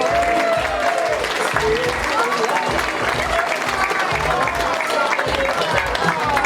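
A gala audience at the 2021 PALS Above & Beyond Gala gives a loud, continuous round of applause, dense clapping over a low rhythmic thump, with voices faintly audible in the crowd.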